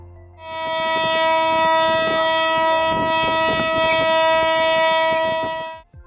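An oil rig kick or blowout alarm blares as one loud continuous horn, a rich, steady droning tone held unbroken for about five seconds before it fades out.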